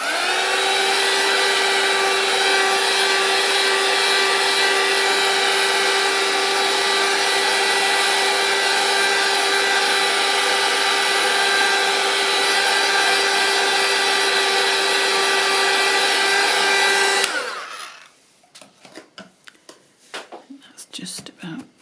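A hair dryer drying paint on a craft card blows as a steady, loud whirring drone for about seventeen seconds, then cuts off abruptly, leaving quiet handling noises.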